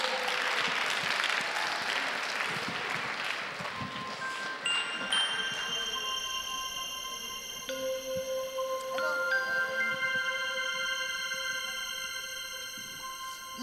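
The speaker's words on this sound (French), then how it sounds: "on l'applaudit bien sûr" An audience claps steadily at a science talk, dense applause that gradually thins and fades while bright sustained tones ring out over it.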